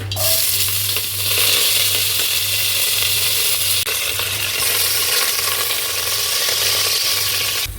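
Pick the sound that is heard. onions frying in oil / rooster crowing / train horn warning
onions frying in oil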